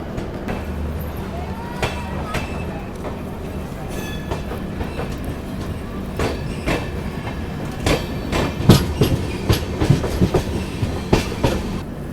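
Superfast express train 12486 from Sriganganagar to New Delhi pulling out of platform 1 at Malout station, steady rolling rumble with rhythmic clickety-clack of wheels over rail joints growing denser and louder toward the end, faint voices in the background.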